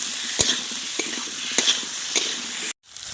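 Potatoes frying in a pan with turmeric and salt, a bright steady sizzle punctuated by a few clanks and scrapes as they are stirred, cut off by a brief silent gap near the end.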